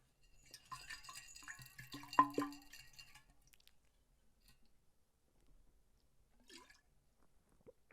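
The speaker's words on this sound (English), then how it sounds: "swallowing water" Water gulped up close for ASMR: a cluster of wet, clicky swallowing and throat sounds early on, then quiet, with one faint wet click later; soft and intimate, no talking.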